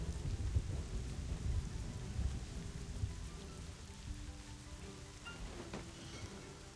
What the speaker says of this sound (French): Ah mais le bruit de l'orage, il est tellement beau.